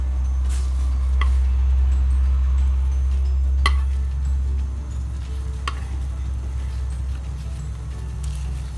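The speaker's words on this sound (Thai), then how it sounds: "เดี๋ยวพอน้ำเริ่มเดือด2นาทีนะคะ เราจะใส่ไข่เจียวชะอมลงไป แล้วก็กุ้งสดค่ะ" Shrimp and diced cha-om omelette slipped into a pot of boiling Thai sour curry, a steady low bubbling bed with a few soft clinks and stirring touches of utensils against the pot.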